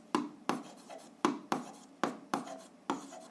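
A pen writes on paper close up, about seven quick scratchy strokes in an uneven rhythm while an algebra answer is noted down, with no talk.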